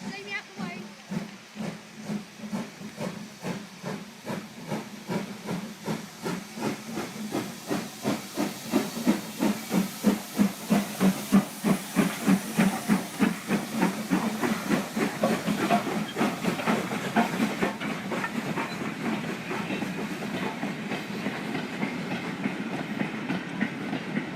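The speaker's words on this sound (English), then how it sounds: "British Railway Standard Class 9F number 92212 with a demonstration goods train heading for Alton." A British Railways Standard Class 9F steam locomotive, number 92212, hauls a demonstration goods train on the Bluebell Railway toward Alton. Loud steady exhaust chuffs and hiss build and hold over a rolling rail clatter.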